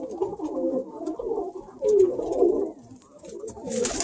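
Baldy hen pigeon cooing close by, a series of soft, low, throaty rolling coos repeated in short phrases, with a brief rustle at the end.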